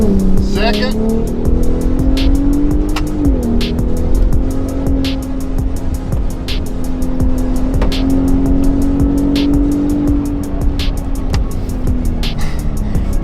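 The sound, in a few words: Ford Raptor driven hard with paddle shifting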